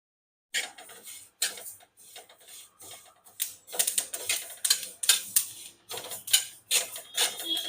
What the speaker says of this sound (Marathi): जवस भाजले म्हणजे त्यांचा आवाज येतो